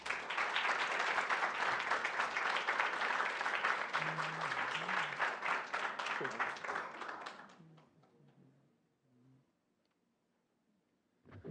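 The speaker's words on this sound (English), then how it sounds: "Another round of applause, if you will" Audience applause after a data science demo day presentation at Google Campus, a dense crowd of clapping that holds for several seconds, then thins and fades away, with a voice speaking briefly as it dies down.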